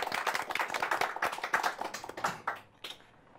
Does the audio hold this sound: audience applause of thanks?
yes